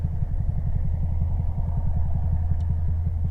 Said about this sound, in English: Pull in the clutch, release the throttle, kick it into the next gear.